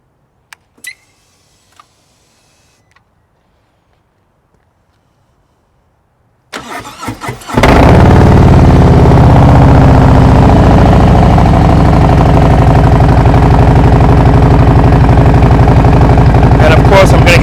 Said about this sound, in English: This is just going to be a startup and idle.